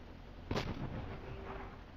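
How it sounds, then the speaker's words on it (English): A single mortar shot fires in the video game Cepheus Protocol, a sharp boom with a short rumbling tail over low background game ambience. "Mortar."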